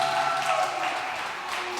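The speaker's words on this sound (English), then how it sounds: "bring him on with a loud round of applause" Loud, dense round of applause welcoming a guest onto a talk show stage, continuous for the whole stretch with a steady musical tone running beneath it.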